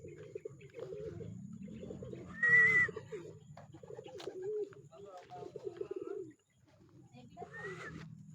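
Racing pigeons arriving from a derby race coo softly among scattered chirps, with a brief brighter bird call midway and people murmuring faintly in the background.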